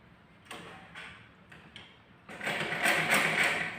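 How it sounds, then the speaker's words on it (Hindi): Sewing machine stitching the side piece of a simple 30-inch blouse, heard as a few short mechanical bursts that build into a louder, steady run of rapid stitching near the end. "तापरे आमे एई सीधा रे सिलाई कर नेबा।"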